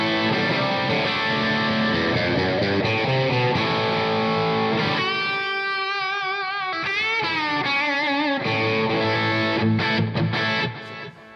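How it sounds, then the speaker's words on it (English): Electric guitar played through an amp's crunch channel with a dirty British-style tone, plate reverb and an Echoplex echo plugin; distorted chords and single-note lines ring out loud and alone, with echo trails, the final chord cut off near the end. "the sound that you're hearing right now is the crunch channel, kind of like a dirty sort of British thing"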